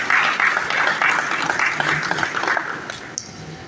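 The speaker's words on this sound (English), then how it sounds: "A warm round of applause, please." Audience applause at the NIESV Lagos Branch 16th Night of Honour, a steady round of clapping from a gathered crowd that holds fairly even, then thins and tapers toward the end.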